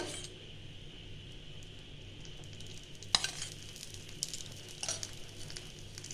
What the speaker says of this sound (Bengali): আবারও তেলের একটু ছিটা দিয়ে দিতে হবে উপর থেকে।